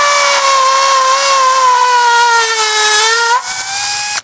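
A power drill bores a hole with a 6.5 mm concrete bit, its motor whining loudly and steadily with a slowly falling pitch for over three seconds before cutting off abruptly, followed by a brief quieter rattle.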